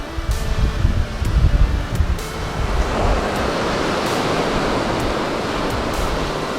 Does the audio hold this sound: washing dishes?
no